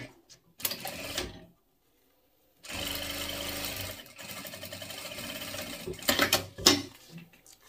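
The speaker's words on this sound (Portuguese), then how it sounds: "E agora a gente acerta aqui direitinho e vem com essa costura reta aqui." A sewing machine stitches a straight seam on fabric pieces for a small zipped pouch, in several bursts of rapid mechanical clatter with short pauses between them, close by and alone.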